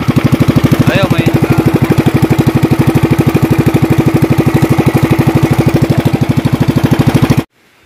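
A boat engine runs steadily at idle with a fast, even chugging pulse, loud and close, then cuts off abruptly near the end.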